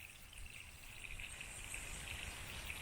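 Steady, faint hiss of water running through a drip irrigation valve, a continuous even rush with no other sounds.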